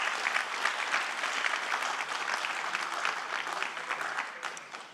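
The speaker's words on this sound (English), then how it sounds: "So can we just give her an applause?" An audience at a graduating seniors recognition in Barclay Chapel claps steadily for a woman finishing her master's, a dense, even round of applause that fades slightly at the end.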